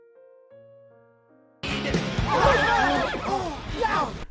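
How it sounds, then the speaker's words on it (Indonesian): After a soft musical intro, a horse gives a loud, close neigh, a long shaky whinny with rising and falling pitch that carries through the rest of the moment, with no talk over it. "Sementara itu Mbah Eddie keluar menemui Mbah Milo yang menjadi kuda."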